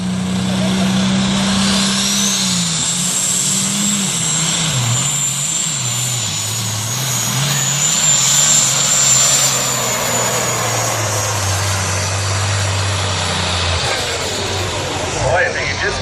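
A pulling tractor revving hard at a truck and tractor pull event, with a loud sustained engine roar whose pitch wavers and drops, while a commentator talks over it throughout.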